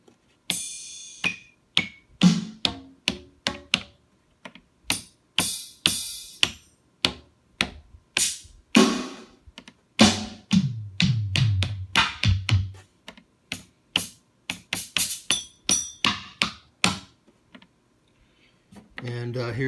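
Drum kit sounds from an E-mu SP1200 sampler play one after another as a long run of short, sharp percussive hits and clicks, each separated by brief gaps, some with a deeper thump.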